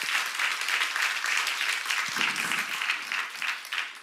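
A congregation at a church seminar claps together in a bright, steady burst of applause, with clear pulsing hand claps running throughout and a brief voice partway through.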